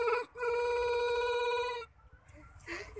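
A voice imitates the long ring of an old home telephone's STD long-distance call: one loud, sustained, steady tonal note lasting over a second, followed by a brief quieter sound near the end.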